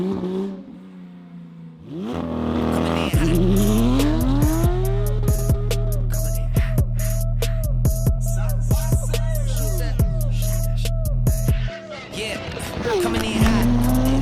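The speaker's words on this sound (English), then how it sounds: "light up the rear tires" A Porsche GT3 revs hard and spins its rear tires, a loud sustained engine roar with squealing whine and rising pitch sweeps, close by, easing off near the end.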